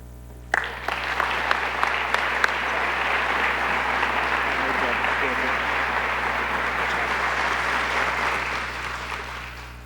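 Sustained applause from a large indoor audience at a police chief's swearing-in ceremony, a dense steady wash of clapping that starts abruptly, holds for several seconds, then begins to fade, with a few voices faintly mixed in.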